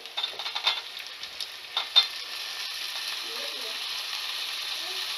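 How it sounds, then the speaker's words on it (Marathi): Chopped onion frying steadily in a pan for a homemade Kolhapuri-style val batata aamti, a continuous close hiss with a few sharp scraping clicks of stirring early on, no voices. "आता आपला जो कांदा आहे तो छानपैकी फ्राय होतोय."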